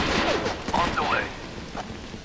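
Gunfire in the tactical shooter game Rainbow Six 3 on PS2, a short dense fusillade of shots layered under radio-style voice chatter from the game.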